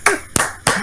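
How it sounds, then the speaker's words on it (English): A few slow, close hand claps, three separate crisp bursts in under a second, in a casual podcast chat about Super Smash Bros. "Applause."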